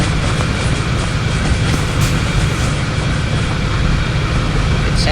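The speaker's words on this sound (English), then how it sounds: "This train is an electric locomotive, so it runs on overhead wires." An electric locomotive on overhead-wire power pulls a train of unpowered wagons, heard as a loud, steady roar of running rail noise with faint clickety-clack, recorded close up throughout with no voices.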